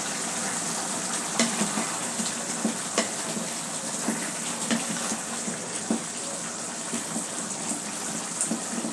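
Papaya fries in a pan with a steady close sizzle, and a spatula stirs it with repeated soft scrapes and taps against the pan.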